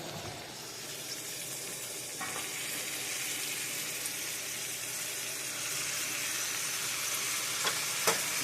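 Beef sizzles and fries steadily as it goes back into a pot roast pot, a continuous bright hiss with a few stirring clinks, no voices.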